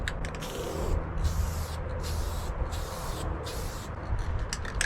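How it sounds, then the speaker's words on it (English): Spray paint can hissing on nozzle setting 3 in short steady bursts with brief gaps between them, close and moderately loud, used while refinishing an old trailer. "So that's spraying in a straight line, just like the other ones are."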